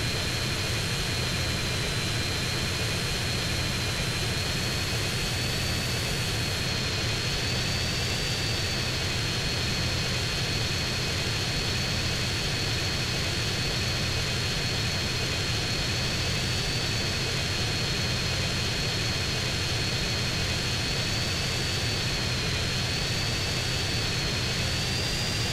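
Jet aircraft engine in Grand Theft Auto San Andreas, a loud continuous roaring whine with a steady high tone, unbroken for the full duration.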